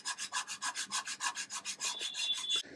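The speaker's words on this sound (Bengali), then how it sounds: "দশ মিনিট পর এই ধরনের একটা স্কচ ব্রাইট দিয়ে আস্তে আস্তে ঘষে নিতে হবে।" A Scotch-Brite pad scrubs a microwave turntable in quick, even back-and-forth strokes, about six per second, producing a close, rhythmic rasping with nothing else heard.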